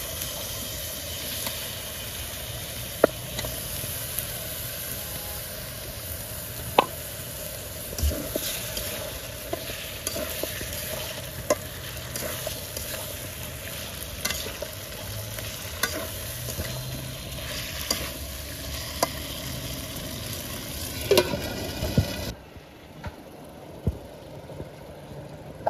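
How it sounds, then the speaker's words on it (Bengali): Chopped potatoes and carrots are stir-fried in spice paste for a Bengali baim fish dish, a continuous sizzle with repeated spatula clicks and scrapes against the pan, ending in quieter frying. "এখন আমি কেটে রাখা আলু ও গাজর দিয়ে দিব।"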